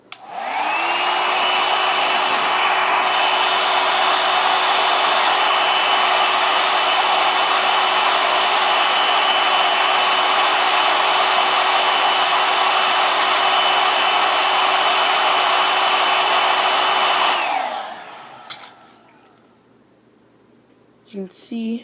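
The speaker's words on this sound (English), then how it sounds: "I recommend using a hair dryer and keeping it there for like 10-20 seconds because it will loosen the joint." Hair dryer blowing steadily and loudly at close range as it heats the joints of an X-Men Professor X action figure, running for about seventeen seconds before switching off and winding down.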